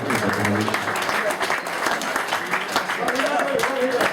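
An audience at an award presentation ceremony breaks into loud, sustained applause, a steady wash of clapping that continues beneath an amplified voice talking throughout.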